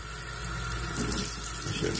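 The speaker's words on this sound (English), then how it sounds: "fill it with hot water." Hot water runs from a tap into a raw drinking horn, a steady close splashing stream that thickens and gurgles as the horn fills.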